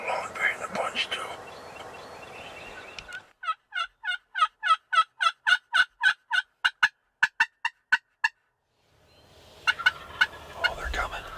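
Wild turkeys, a group of jakes with a long-bearded tom among them, gobble in a rapid run of about fifteen evenly spaced, loud calls, with quiet whispering before and after.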